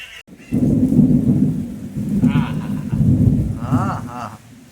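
Steady rain falls in a long, even wash, with a nearby voice and some animal-like cries breaking through the downpour now and then.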